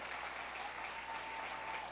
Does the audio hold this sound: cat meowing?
no